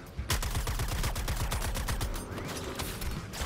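Rapid bursts of automatic gunfire in the Suicide Squad: Kill the Justice League video game, loud and continuous with sharp repeated reports throughout.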